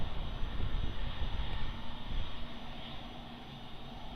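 Airliner taking off from runway 02 at Lisbon Airport, a steady broad engine roar heard from a distance that holds loud and then eases slightly, with no talk.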